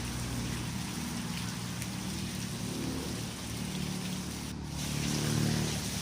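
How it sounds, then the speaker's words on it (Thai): Steady heavy rain pours down continuously, a dense hiss of drops on surfaces with no talking, close and fairly loud throughout. "ฝนก็ยังตกอยู่เลยนะคะ"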